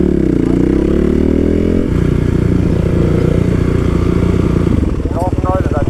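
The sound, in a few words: motorcycle failing to start after wheelie attempt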